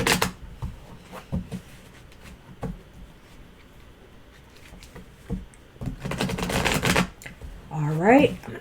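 Tarot cards are shuffled by hand with crisp riffling bursts and soft taps, including a louder flurry near the end, while a voice talks intermittently over the shuffling.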